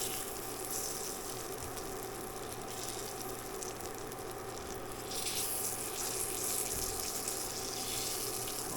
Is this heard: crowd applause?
no